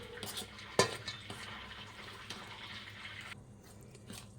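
Dry chakli flour ingredients being mixed by hand in a bowl, giving soft rustling and scraping with a sharper clink near the start, steady and fairly quiet with no talking.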